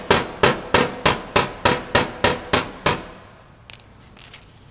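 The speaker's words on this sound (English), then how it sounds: "A little bit high right here, so I'm going to tap that down just lightly." Hammer and dolly tapping down a high spot on a dented auto body panel: about ten quick, evenly spaced metallic taps over three seconds, close and fairly loud, then a couple of faint light knocks.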